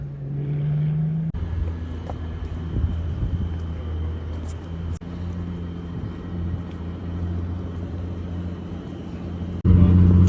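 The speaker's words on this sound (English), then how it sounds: "Test car at the factory." A new Ferrari test car drives at the factory in Italy's Motor Valley, its steady engine rumble mixed with wind noise on the microphone, with cuts between shots and a louder burst at the end.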